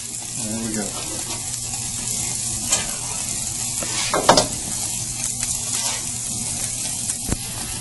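Steaks are turned over directly on hot embers in a caveman-style cook, giving a steady crackling sizzle with a few sharp pops and scrapes, and a voice talking over it.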